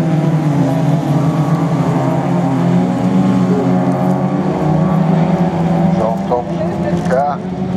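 Racing cars lap a track during a Class 2 heat, their engines droning continuously at close range with pitch shifts as they rise near the end, while a commentator's voice runs over the noise.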